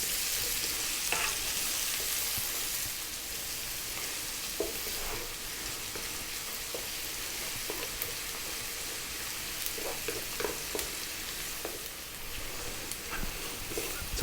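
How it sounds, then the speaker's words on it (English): Onion frying in a pan over above-medium heat for an Indian vegetarian rice dish, a broad steady sizzle with occasional stirring taps and scrapes, close and continuous with no talk. "we're going to drop in the onion"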